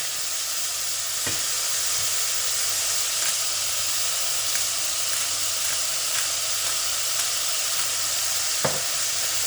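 Beef mince fries in a pan with a steady, close crackling sizzle, broken by a couple of sharp knocks of a utensil against the pan.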